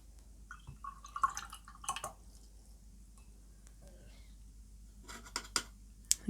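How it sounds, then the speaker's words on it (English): Brusho watercolour spattering onto a wipeable surface during Gelli plate printing: a few scattered wet flicks and drips, close and fairly soft, in small bursts separated by quiet. "this watercolour is going to splatter about a bit"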